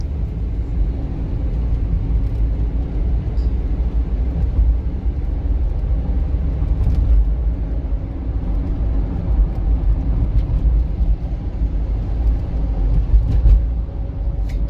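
A used car accelerating steadily on a test drive, a continuous low engine and road rumble inside the cabin that stays even and fairly loud throughout, with no one speaking.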